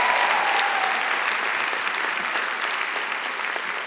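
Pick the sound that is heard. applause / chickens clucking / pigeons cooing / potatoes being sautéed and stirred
applause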